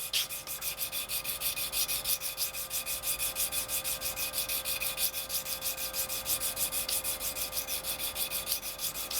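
Hand sanding of a metal finger clamp with 600 grit sandpaper, a steady rapid back-and-forth rasping rub repeating evenly and close up throughout, with no talk.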